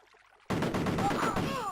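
Soldiers fire weapons in a Commodore Amiga war game, a dense burst of rapid gunshots that starts suddenly after a brief quiet and carries on steadily, with bright chirping game effects near the end.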